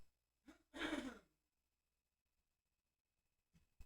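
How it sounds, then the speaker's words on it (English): A single throat clearing from one person, a short broadband burst after a faint breath, followed by quiet and then a brief soft sound near the end. "I need to clear my throat."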